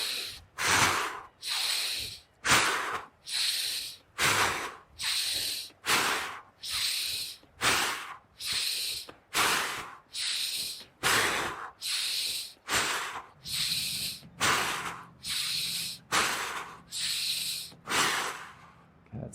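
Deep, even breaths follow one another in a steady cycle of about twenty rhythmic inhales and exhales, each a loud breathy rush heard close up with short gaps between, as in a guided breathing exercise.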